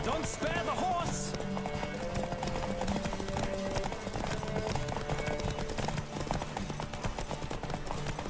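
Fast, continuous hoofbeats of a horse racing flat out in The Witcher 3 drum beneath game music and voices, with a brief neigh near the start.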